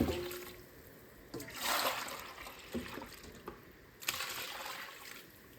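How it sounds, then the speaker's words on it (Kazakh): Sweet liquid poured into a pot while making traditional Kazakh dairy products such as kurt and cheese, heard as uneven trickling and splashing bursts, close by and fairly quiet, with no talk. "Енді екінші, міне, тәтті суын құйып жатыр."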